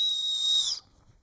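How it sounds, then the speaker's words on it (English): A single shrill blast from the emergency whistle on a Salomon Adv Skin 12 backpack, high and steady, lasting under a second before cutting off into quiet. "The emergency whistle."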